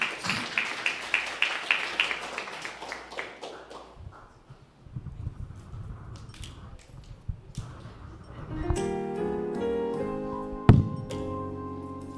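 A round of applause for Sasha Oglesby at a gathering where the audience sings, a short burst of scattered clapping from a small crowd that fades out before organ or piano music begins.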